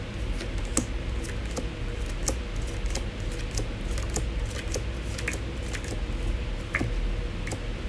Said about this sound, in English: Shuffling the way that I shuffle.